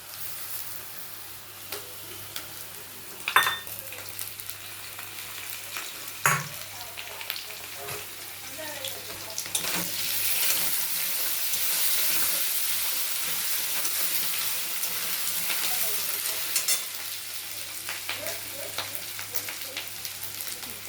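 A steady sizzle of ginger paste frying in a wok, with occasional sharp clinks of a utensil stirring and scraping, no talking.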